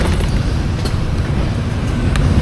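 Dense heavy road traffic heard from inside a vehicle in a city street, a steady low rumble of engines and tires with occasional brief clatters, continuous and fairly loud with no talking.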